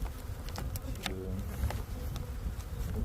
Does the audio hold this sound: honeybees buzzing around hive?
yes